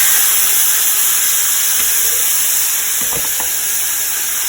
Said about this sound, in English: we're gonna sear this on each side until it get a nice little crust